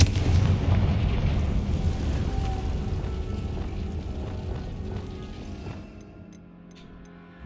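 Confringo explosion spell from the Hogwarts Legacy video game: a heavy, booming low rumble that rolls on for several seconds and slowly fades out, loud and close with no talking over it.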